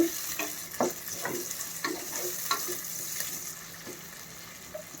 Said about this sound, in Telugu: కొంచెం ఉల్లిపాయలు వేగిన తర్వాత పచ్చిమిరకాయలు వేసాను